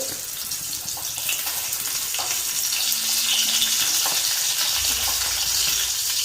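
Loud, close sizzling of chicken frying in a pan, a dense crackling hiss that continues steadily throughout, with a low rumble near the end.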